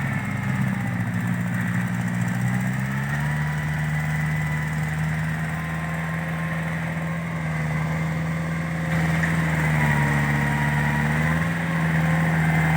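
A tractor pushing soil to fill potholes gives a loud, close, steady engine drone that holds an even pitch with slight shifts in load throughout, with no talk.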